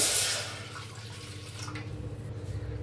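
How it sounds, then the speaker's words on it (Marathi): A cup of water is poured onto roasted semolina in a kitchen pan, opening with a brief splash that settles into a quiet, steady trickle and low bubbling close by. "तर त्याच्यात ओतूया एक वाटी पाणी"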